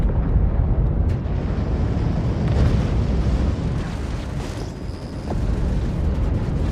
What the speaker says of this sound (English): Countermeasures firing.